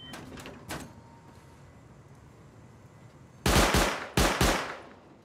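Automatic gunfire from a video game raid: a few quick bursts at the start, then after a lull two loud, close, sustained volleys of rapid shots, each ringing out and then cut off.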